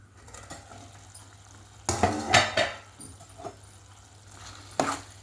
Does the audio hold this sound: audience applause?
no